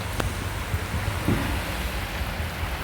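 Steady heavy rain hissing continuously, broad and even, with a couple of faint low thumps and no talking.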